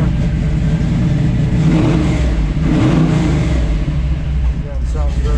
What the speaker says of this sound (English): Get this thing rev up a little bit here.